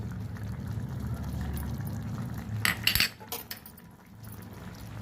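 Brinjal and potato curry with kasuri methi being stirred in a pan, soft scraping and a few sharp clinks of a utensil against metal under a low background hum.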